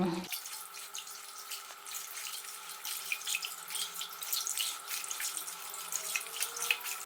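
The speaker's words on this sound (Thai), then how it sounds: "มาใส่น้ำ ล้างเป็นทีละแผ่น" Makeup sponges rinsed one at a time under running tap water at a sink, with a steady splashing stream and small drips and squeezes throughout, close and moderately loud.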